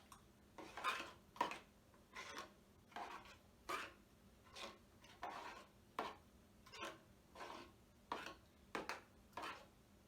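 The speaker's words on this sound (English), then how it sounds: "So we roughly pretty much mix this mixture" A spoon works rhythmically around a bowl, mixing a spoiled milk mixture, with repeated scraping and clinking strokes about once a second. The strokes are close and moderately loud, with quiet gaps between them and no talk.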